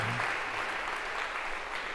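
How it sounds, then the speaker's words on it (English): An audience in a computer science lecture hall gives a quick round of applause for a student, a soft, even wash of clapping with a brief low murmur near the start. "maybe just a quick round of applause for Sam here"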